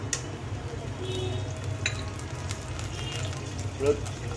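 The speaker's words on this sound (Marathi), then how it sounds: "आता मी पॅनमध्ये थोडं तेल घेतलेलं आहे तर याच्यामध्ये मी आपले खडे मसाले घालतो" Whole spices sizzle in hot oil in a pan, a soft steady hiss with a few light stirring scrapes, fairly quiet and close, while a person speaks.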